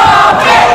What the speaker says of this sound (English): The crowd is behind Prophet in this match. You hear them cheering for Jeremy.